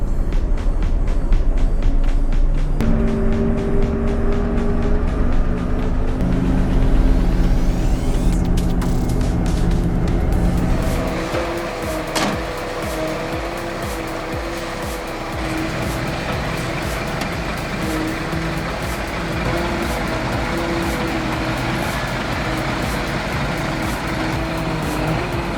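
A heavy 6x6 logging truck on a cliffside road drones steadily close by, its engine note shifting and dropping partway through, then settling into a lower continuous rumble with rattling from the rig; no voices.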